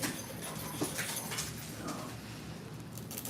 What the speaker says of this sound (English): The little dogs got so much to say.